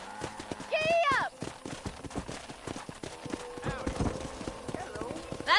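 Horse hooves clip-clopping at a steady gallop in the Western video game Red Dead Redemption, with a loud whinny near the start and a voice speaking over the rhythmic hoofbeats.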